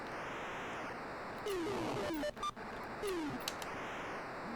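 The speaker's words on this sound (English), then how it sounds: "I love those white noise, kind of FM synthesis type sounds." Retro video game engine noise from River Raid on the ColecoVision: a steady hiss of synthesized white noise with descending electronic zaps and a few sharp crashing bursts.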